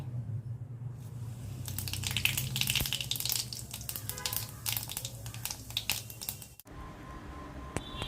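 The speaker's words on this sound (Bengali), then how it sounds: "কড়াটা গরম করে তাতে সর্ষের তেল দিয়ে নিয়েছি এর মধ্যে একটা তেজপাতা আর একটু সাদা জিরে দিয়ে নেব" A bay leaf and whole white cumin seeds hit hot mustard oil in a wok and fry with a lively, crackling sizzle that sounds close. The sizzling swells and then settles, cuts out briefly, and resumes more softly, with no talking.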